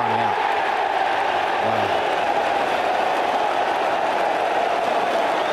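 Cricket crowd at a 2009 Ashes Test applauding and murmuring after Ricky Ponting is run out, a steady, broad wash of stadium noise throughout with a brief voice exclaiming near the start.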